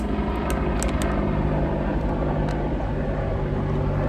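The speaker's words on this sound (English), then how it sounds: "And there's just a helicopter flying overhead." A military Apache attack helicopter passes overhead, a constant loud mechanical rotor and engine drone that fills the whole stretch without letting up.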